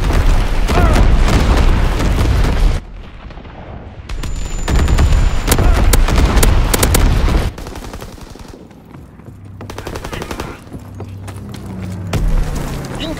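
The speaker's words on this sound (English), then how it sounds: "Incoming enemy artillery! Get to cover!" Enemy artillery explosions in Call of Duty WWII, loud, dense bursts of blasts mixed with rattling gunfire, broken by brief lulls before more heavy booms land.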